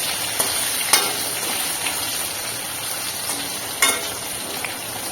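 Ingredients with turmeric and salt frying in oil in a pan until browned, a steady close sizzle with a few light clinks of a spoon against the pan and no talking.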